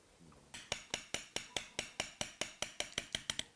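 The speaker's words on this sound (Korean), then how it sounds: "칼을 잡고 망치로 뒤에서 칼등을 두드리는" A mallet strikes the back of a carving knife driven into a wooden printing block during traditional Korean engraving: about fifteen sharp, evenly spaced knocks in a steady rhythm, close and clear with nobody speaking.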